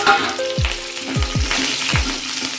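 Red chillies, crushed garlic and curry leaves sauté in hot oil, a loud close sizzle broken by several dull thumps and scrapes of a stirring spoon against the pan.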